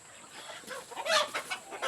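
Chickens on a provincial farm cluck in short, bright, uneven calls, growing busier toward the end, fairly close and without talk.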